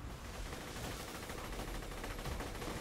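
A Shredifier assault rifle fired in Borderlands 2, a rapid, continuous automatic burst that stays loud and dense with crackling shots throughout, with no talking.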